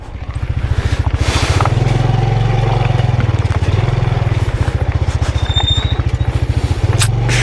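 A Yamaha PG-1 motorcycle rides a narrow mountain trail on Mount Ugo, its single-cylinder engine chugging loud and close in a steady pulsing rhythm throughout, with faint rattles and scrapes over the running engine.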